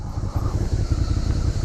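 A 2017 Suzuki SV650 motorcycle climbs a steep uphill stretch, its twin-cylinder engine pulling under load with a steady low throb, fairly close and continuous with wind rush over it.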